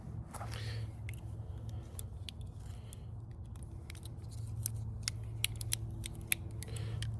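A multi-tool's small blades cut off a section of material outdoors at a shelter setup, giving a series of sharp, close snips and creaks spaced irregularly over a faint low background hum.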